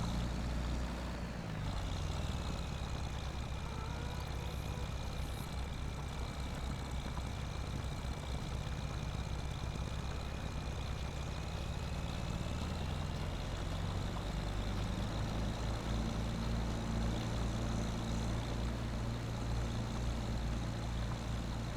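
A tractor engine runs steadily in a farming game, a constant low drone with a faint whining tone above it, holding at an even level throughout with no talking.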